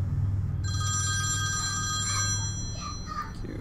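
A phone rings in the horror video game Nighttime Visitor, a bright electronic trilling tone repeating for a few seconds over a low droning hum, with brief faint sounds trailing off at the end.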